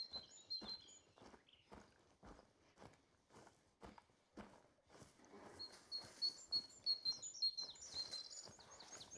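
Birds flushed out of cover in the hunting game The Hunter: Call of the Wild, thin chirps and tweets over a steady series of rhythmic footsteps, with a flurry of calls toward the end.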